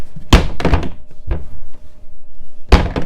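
A door thunks shut, a single solid close with a couple of lighter knocks and rattles before it and another thud near the end, close by in a quiet room.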